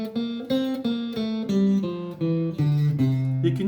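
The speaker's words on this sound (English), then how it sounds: "And the Mixolydian mode is going to sound like this." A chord progression in the Mixolydian mode, played as a sequence of sustained chords roughly every half second, each with a soft attack, clear and alone without talk.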